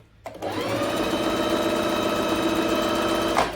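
A Bernette B05 sewing and embroidery machine starts abruptly and stitches at high speed, a loud, steady, close motor whir with a fine rapid needle rhythm, holding constant for about three seconds before slowing at the end.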